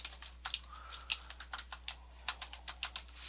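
Fingers type on a computer keyboard in a quick, uneven run of crisp close clicks, about a dozen and a half keystrokes with brief pauses, alone with a faint steady hum beneath.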